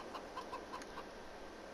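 Chickens in the Farming Simulator 22 video game cluck in a quick series of short, soft calls, fairly close and alone with no talking over them.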